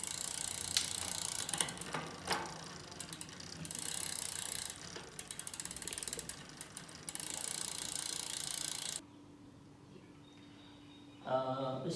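Bicycle chain and freewheel ratcheting steadily as the cranks are spun backward during lubing, a close, continuous mechanical clicking that stops near the end, followed by a brief different sound.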